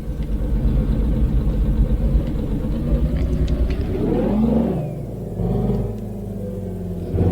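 Pickup truck engine in a driving video game, a steady low rumble with mid-range whir that rises in pitch as if revving around the middle, then dips and settles back to a constant drone.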